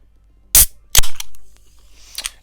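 A can of Monster Assault energy drink popped open up close: a sharp click, then a louder crack of the tab and a short fizzing hiss fading out.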